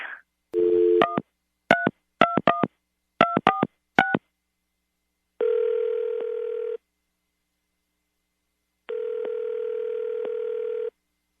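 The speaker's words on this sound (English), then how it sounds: "All right, Kate, you ready to get him on the phone" A series of short telephone keypad tones beep in quick clusters, followed by two long, steady ringback tones separated by silence.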